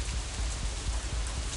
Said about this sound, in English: it's still raining outside when we exit the Shanghai